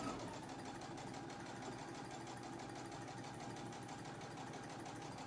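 Stitching a hem over a previous line, the sewing machine runs in a fast, even, chattering rhythm with a low motor drone, close and uninterrupted, no speech.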